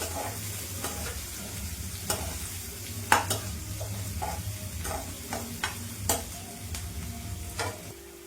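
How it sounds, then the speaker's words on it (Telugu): Sliced medium onions sizzling steadily in a pan for village-style Telangana boti fry, with a spatula stirring and scraping at irregular intervals over a continuous frying hiss. "ఇది లైట్ గోల్డెన్ బ్రౌన్ వచ్చే వరకు వేయించుకుందాము."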